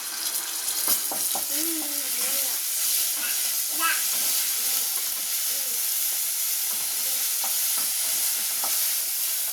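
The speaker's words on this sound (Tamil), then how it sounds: "நல்லா வதக்கிக்கலாம் இன்னும் கொஞ்சம் சவக்கட்டும் பூண்டு போட்டுக்கலாம்" Onions and garlic sautéing for a Tamil mutton curry: a steady close sizzle with scraping stirs and a few light clinks, continuous throughout with no talk.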